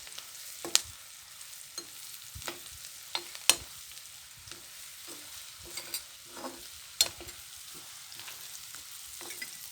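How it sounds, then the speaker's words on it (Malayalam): A spoon stirs a spiced mixture in a cooking pan, scraping and tapping in irregular close strokes over a quiet sizzle, with sharp metallic clinks now and then and no voices. "നല്ലപോലെ മിക്സ് ആക്കുക."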